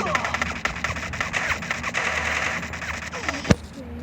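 Free Fire video game gunfire, rapid bursts of automatic shots running through the whole stretch with one sharper bang near the end, fairly loud, with game sounds and a voice now and then.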